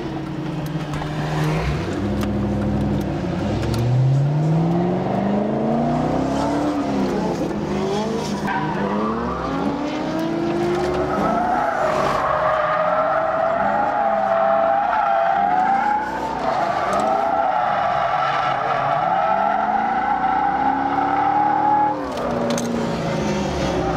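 Corvette drifting on a race track during a hot lap at a drift event, engine roaring and rising in pitch through gear changes, with tire squeal and skidding throughout, loud and continuous.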